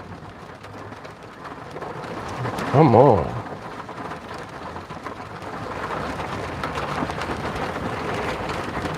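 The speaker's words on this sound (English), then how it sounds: "The rain is speeding up, man." Heavy rain pours down in a steady, dense hiss that fills the whole stretch and swells slightly toward the end, with a voice breaking in briefly near the start.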